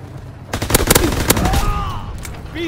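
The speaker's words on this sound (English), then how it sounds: "Keep firing!" Rapid gunfire from the Call of Duty WWII video game rattles in loud, dense bursts that carry through most of the stretch, with the roar of a battlefield around it.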